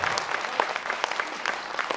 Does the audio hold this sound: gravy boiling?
no